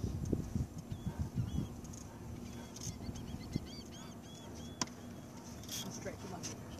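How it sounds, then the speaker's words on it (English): Seabirds call over open water from a fishing boat on a king salmon trip, with faint scattered cries and squawks carried from a distance under engine rumble, wind and bits of talk. "A lot of birds out there, see the birds out there?"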